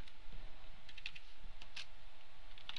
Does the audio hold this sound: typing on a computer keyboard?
yes